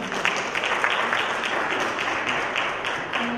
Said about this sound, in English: Let's give Dr. Beasley another round of applause.